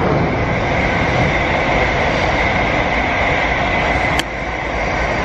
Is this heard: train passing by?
yes